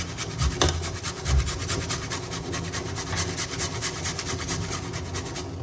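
Fresh ginger is rubbed over a grater in quick rhythmic strokes, a dry rasping scrape that repeats steadily at close range with a couple of duller knocks early on.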